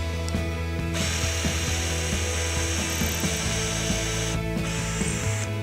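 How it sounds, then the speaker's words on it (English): A power drill whines steadily while boring a pilot hole into old timber, its motor tone holding for several seconds before briefly dropping and resuming, with faint mechanical rattles throughout. "We've drilled that pilot hole."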